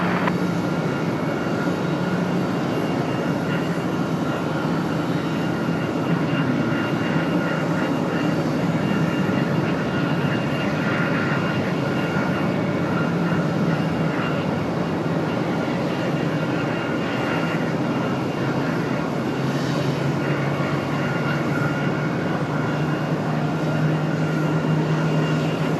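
Aircraft on the runway at Raleigh-Durham International Airport give off a steady, broad engine roar from some distance, continuous and even for the whole stretch, with no talk.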